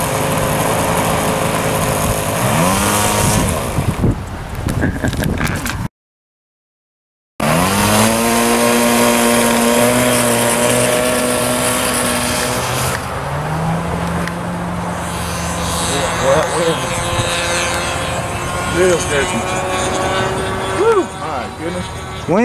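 A small, high-pitched 40-size model airplane engine with a known fault buzzes loudly in windy conditions, its whine rising and falling as it moves, with a brief cutout partway through.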